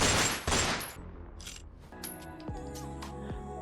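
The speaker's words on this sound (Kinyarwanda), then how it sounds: "numva bandashe amasasu 2" Two sharp gunshot sound effects crack out in quick succession at the start, followed by a lingering ringing, tonal tail.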